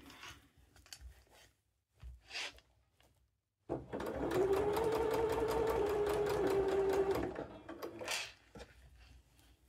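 A sewing machine stitches fabric for Christmas pouches in one steady forward run of about three and a half seconds, loud and close, with a few quiet handling noises before and after.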